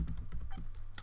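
Quick typing on a computer keyboard, entered to rename a BT Smart Hub network, sounds as a rapid close run of crisp key clicks, alone and uneven in rhythm.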